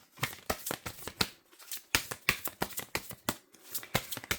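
Oracle cards shuffled by hand at close range, a quick run of crisp flicking riffles and soft taps, heard alone with no talking.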